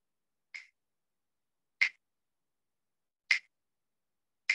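Four crisp finger snaps, spaced evenly about a second and a half apart against complete silence, each short, sharp and close.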